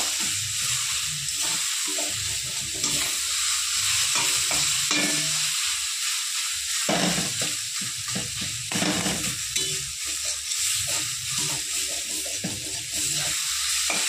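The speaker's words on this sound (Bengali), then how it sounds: "এরকম আমি 15-20 মিনিট ধরে ভাজা ভাজা করব, ভালো করে লাল করে ভেজে নেব।" Grated radish and lentil dumplings being fried and stirred in a pan, with steady close sizzling and repeated scraping strokes of a spatula throughout, no talking.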